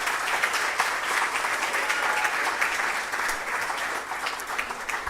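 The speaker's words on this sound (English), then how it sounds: "I think everybody who participated in the quiz needs an applause." An audience at a quality-week closing ceremony applauds in a steady, full wash of clapping that lasts throughout at moderate loudness, with no voices over it.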